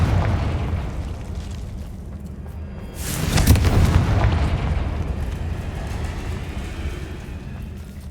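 A Confringo blasting curse explodes in Hogwarts Legacy, a loud boom swelling about midway out of a steady low rumble and fading slowly into background roar.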